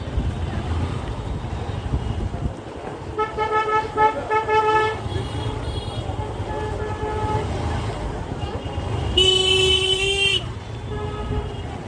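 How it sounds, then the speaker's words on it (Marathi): Busy city street traffic on an election day, with engines rumbling under a crowd and repeated car horns honking, including a louder sustained blast near the end; someone talks over the noise. "रिअल आवाज दाखवा तुम्हाला, रिअल किती ट्रॅफिक आहे आणि किती गर्दी येते."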